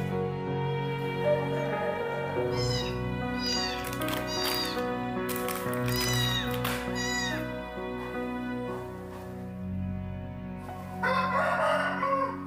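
Two young kittens meowing repeatedly, high wavering cries close by in bursts over a steady low background hum, with a brief scratchy rustle near the end.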